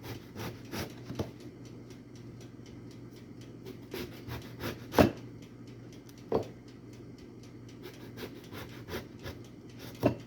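A knife slices through eggplant into thick pieces on a board, giving soft scraping rubs and a few sharper taps of the blade, close and quiet with no talking.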